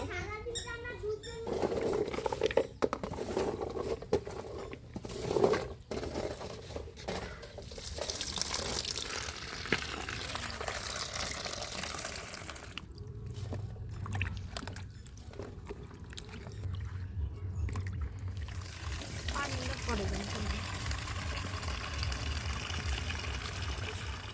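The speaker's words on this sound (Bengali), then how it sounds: "এখন সবজিগুলো ধুয়ে নিব" Chopped pumpkin, carrot, cauliflower, cabbage and potato are washed in a kitchen, with water running, splashing and pattering in a steady stream, broken by squeaky handling and small clatters.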